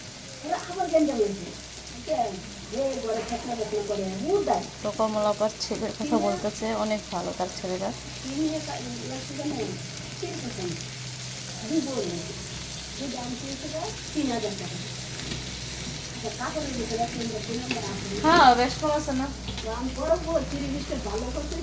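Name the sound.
fish frying with onion in a pan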